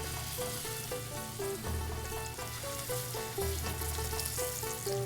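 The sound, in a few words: meat searing and sizzling in hot oil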